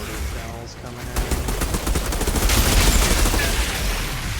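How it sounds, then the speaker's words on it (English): Rapid bursts of mortar shell fire from the video game Outriders, dense and loud, with rattling gunfire in a trench-filled town battle, continuous over several seconds. "Mortar shells coming out."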